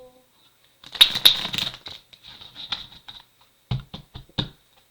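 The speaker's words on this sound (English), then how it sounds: "One more shuffle." Tarot cards are riffled and shuffled close by in a couple of quick rustling bursts, followed by a few soft taps.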